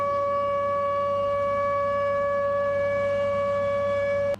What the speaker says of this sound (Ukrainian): По всій країні завтра будуть звучати вот такі звуки сирен.